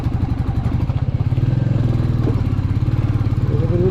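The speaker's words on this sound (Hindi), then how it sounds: "फर्स्ट गियर में चढ़ा के ले रहे हैं रॉयल एनफील्ड को भी" A Royal Enfield Meteor motorcycle grinds uphill in first gear on a steep off-road climb, its single-cylinder engine thumping in a fast, even, close pulse throughout.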